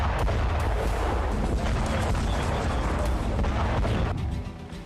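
Heavy bombardment explosions in Lebanon: a dense, continuous barrage of loud booming blasts and rumbling that overlap without pause, then thin out and fade near the end.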